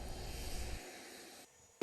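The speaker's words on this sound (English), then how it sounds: "Now, that team includes vintage World War II airplanes." Vintage World War II airplanes of the GEICO Skytypers team fly near Republic Airport in Farmingdale, heard as a faint, distant engine drone that holds steady, then drops away before a brief louder burst at the end.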